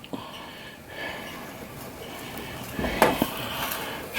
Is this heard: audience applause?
no